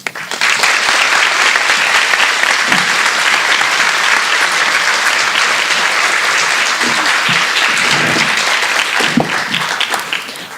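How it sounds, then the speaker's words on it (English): Sustained audience applause fills a school district's Veterans Day ceremony, steady and dense from start to finish with scattered louder claps and faint voices underneath. "Please welcome the veterans with your applause on this Veterans Day."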